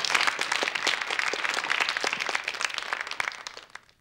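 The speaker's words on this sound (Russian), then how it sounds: "Аплодисменты." Studio audience on a Russian television quiz show applauds, dense clapping that starts loud, holds steady, then tapers away near the end.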